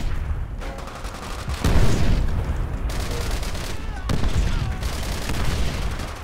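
Grenade blast in the Call of Duty: World at War video game, a heavy boom rising out of dense combat noise with scattered gunfire continuing around it.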